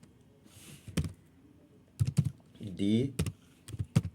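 Short bursts of clicky computer keyboard typing while a document name is entered, with quick key taps in small clusters between stretches of someone speaking.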